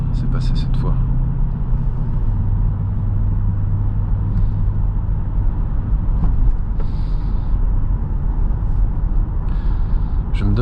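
A Jaguar S-Type R is held manually in second gear, its engine a steady, loud low drone with road rumble that stays unbroken throughout.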